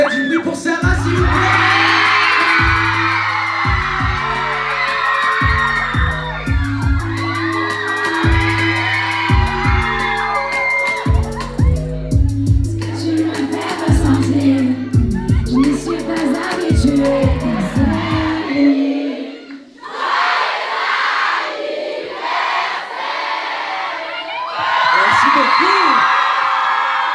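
Concert crowd cheers, whoops and shouts for a singer, loud and continuous, over a driving musical beat that cuts out near the end as the applause carries on; a voice speaks briefly afterward.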